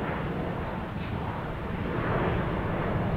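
A Sun Country airliner passes at Salt Lake City International Airport as a continuous, loud, broad jet roar that holds steady and swells slightly toward the end, with no voices.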